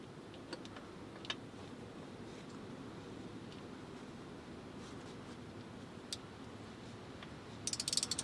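A ratchet tightens the rear differential drain plug with a new crush washer on a 2019 Honda HR-V Sport AWD, giving faint, sparse ticks over a low hum and ending in a short, quick burst of clicks.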